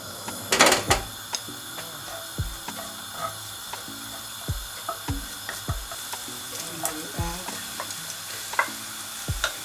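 Garlic sizzles in about five tablespoons of frying oil for a seafood linguine, a steady close crackle punctuated by repeated scraping stirs of a utensil, with occasional background voices.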